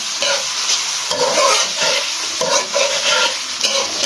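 Finely chopped onion browning in half a cup of oil, a loud, dense, close sizzle that swells and eases in waves as it is stirred.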